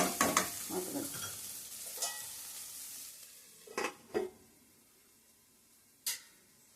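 Spiny gourd (akakarakaya) pieces cooking in a little oil over a low flame, a soft fading sizzle with a few sharp utensil knocks and stirring clatters spaced apart, no voices.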